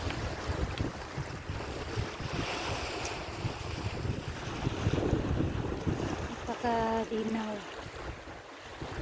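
Sea waves wash against a rocky shore in Croatia on a cold morning, a continuous rushing surf with heavy wind buffeting the microphone, and a person speaks briefly partway through.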